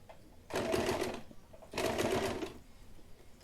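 A sewing machine stitches elastic onto a small cotton pant in two short bursts of rapid, whirring needle action, close and clear with quiet gaps between runs.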